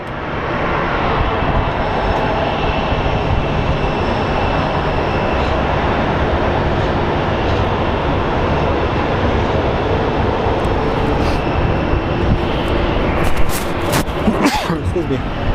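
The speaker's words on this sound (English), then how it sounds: "You guys can actually watch some planes take off." Jet aircraft roar steadily while taking off at Phoenix Sky Harbor International Airport, a loud continuous broadband engine rumble that holds throughout.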